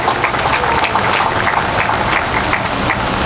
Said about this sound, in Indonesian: Mari kita beri aplaus yang meriah